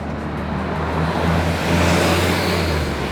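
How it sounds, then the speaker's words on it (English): A bus drives past, giving a steady, broad engine and road roar that swells slightly midway and then holds. No one speaks. "there's a bus coming"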